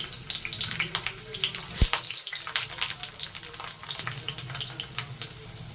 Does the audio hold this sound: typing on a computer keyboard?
no